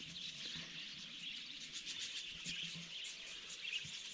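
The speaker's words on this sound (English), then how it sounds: "waking up in the middle of an aviary here this morning. So many birds." Many birds chirp and call continuously in a dense, overlapping chorus at Redbank Waterhole in the West MacDonnell Ranges, bright and busy throughout, with faint low rustling beneath.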